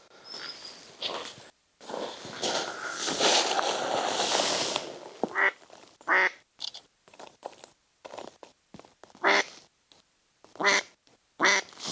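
A duck quacks beside Loch Ness in a series of short, clear calls with pauses between them, near and moderately loud, following a stretch of rustling and crunchy handling noise.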